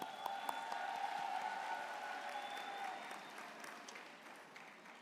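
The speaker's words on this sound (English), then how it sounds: "You deserve a massive round of applause" An audience claps for graduates at a Durban university health sciences graduation ceremony, the applause fairly distant and steady, slowly fading toward the end.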